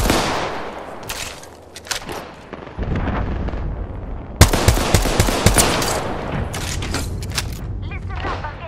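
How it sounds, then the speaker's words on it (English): Heavy automatic gunfire and impacts from an Apex Legends firefight come in loud, dense bursts with short gaps. A player speaks over the shooting. "I'm getting shot at"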